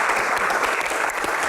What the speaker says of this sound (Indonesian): Yang pasti aja, tepuk tangan dong.